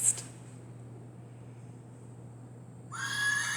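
A horse neighing, played as part of a toddler's animal sound puzzle: one faint whinny near the beginning, then quiet hum, then a bright tonal cry swelling near the end.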